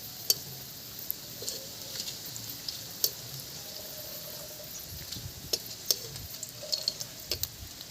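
Dried red chillies and bay leaves fry in hot oil in a pan, giving a steady faint sizzle with a few sharp crackles and light stirring clicks throughout.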